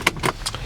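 Two Mercedes master car keys for a 2011 GL350 BlueTec 4Matic jangling in a hand, three short bright metallic rattles, close and clear with no talk.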